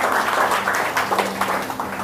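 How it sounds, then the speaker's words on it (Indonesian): Church congregation at a Sunday service breaking into loud, close applause, a short burst of overlapping claps with uneven rhythm. "Berikan tepuk tangan untuk Tuhan."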